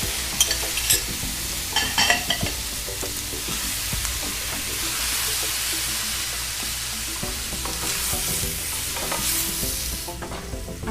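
Scallops, chopped tomatoes and onions frying in a pan give a continuous hissing sizzle, with clattering stirring and scraping of a utensil at the start and near the end.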